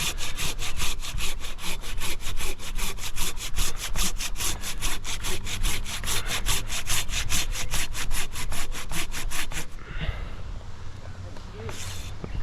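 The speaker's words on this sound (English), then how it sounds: "I'm gonna cut this far side with my handsaw." A handsaw cutting through a limb of a big butternut tree, sounding as loud, close, rhythmic back-and-forth strokes in a steady fast cadence that stop abruptly near the end, followed by quieter rustling.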